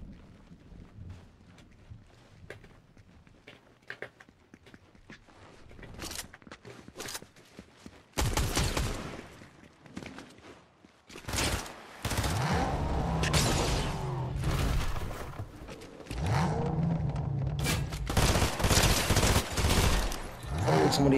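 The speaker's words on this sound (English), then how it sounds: "Oh, somebody else is shooting me." Gunfire in the video game Fortnite Chapter 5: sporadic shots at first, then loud bursts of rapid fire from about eight seconds on, mixed with rushing wind-like noise and intermittent talking.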